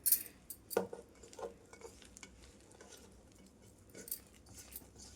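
Spoon scraping and clinking in a bowl while a potato snack mixture is mixed with cornflour and rice flour, soft irregular stirring taps up close, fairly quiet with a few sharper knocks.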